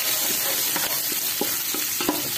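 Chopped onion hits a pan of garlic frying in oil, giving a steady sizzle broken by scraping stir strokes at an uneven rhythm, close up with no talking.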